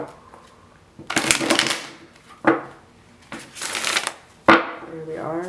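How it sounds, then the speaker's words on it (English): Tarot cards are shuffled in several brisk riffling bursts, each lasting about a second, close and fairly loud, with a brief voice heard at the end. "Let's do one more good shuffle."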